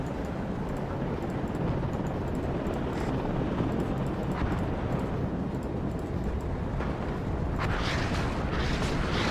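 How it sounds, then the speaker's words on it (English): Artillery fire in the WARNO war strategy game, a continuous rumbling barrage of deep booms and blasts filling the mix, with sharper crackling impacts toward the end. "there comes artillery"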